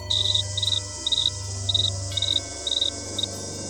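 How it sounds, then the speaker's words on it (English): Crickets chirp in short, regular bursts at night in the woods, a steady high trill repeating about every half second over a low background hum, close and clear with no voices. "Those are just the crickets."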